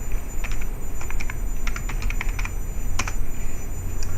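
A computer keyboard is typed on at close range, a quick run of crisp key clicks in short bursts over a steady background hum.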